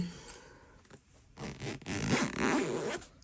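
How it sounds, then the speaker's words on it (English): A zipper on a pillow cover is pulled closed in one long, rough, rasping run that grows louder toward the end, close to the listener with no talking over it. "Well, zipper works."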